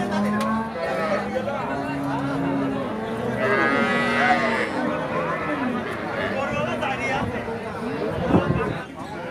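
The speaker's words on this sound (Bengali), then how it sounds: "শাহিওয়াল জাতের গাভি।" Lowing from a Sahiwal dairy cow at a busy cattle market in Bangladesh, a long, loud moo rising over steady crowd chatter and nearby voices, with further bovine calls and market bustle around it.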